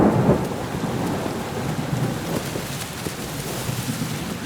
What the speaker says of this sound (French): Un éclair lacère les nuées.